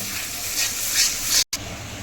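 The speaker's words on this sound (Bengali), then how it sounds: "এটাকে ভালো করে, মশলাটাকে ভালো করে কষাতে হবে।" Spice paste for duck curry frying in hot oil, with a steady hissing sizzle throughout and a brief cut near the end.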